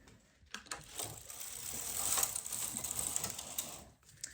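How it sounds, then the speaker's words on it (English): A knitting machine carriage knitting a single row of tuck-pattern fabric, a close rapid mechanical clatter and whir that swells through the pass and stops abruptly near the end. "Now I'm going to knit my first row, and this is going to be of colour 2, so my tucking colour."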